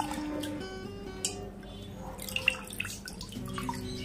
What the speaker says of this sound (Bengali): জলে এগুলোকে খুব হালকাভাবে ধুয়ে নেব।